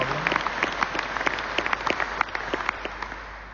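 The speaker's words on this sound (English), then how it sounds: "You can clap your hands if you want," An audience claps at a ThyssenKrupp Marine Systems shipyard in Kiel during speeches about the U212CD submarine, producing dense, steady applause from many hands that eases slightly toward the end.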